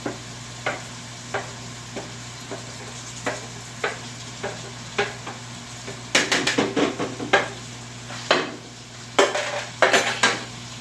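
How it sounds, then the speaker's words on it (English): Bell peppers and purple onion sautéing in a pan with a faint steady sizzle under regular scraping stirs, the spoon strokes growing quicker and louder with clattering against the pan toward the end. "We're just going to saute these down here, get them all nice and soft."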